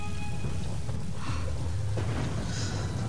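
Steady rain with low rumbling thunder in the Tomb Raider video game, a dense continuous wash of falling water with a deeper boom swelling partway through, heard alone without any talking.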